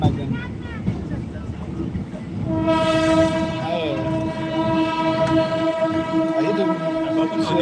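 A train pulls into Beed railway station with a long, loud horn that holds for several seconds over rumbling wheels and crowd noise, with voices faintly in the background.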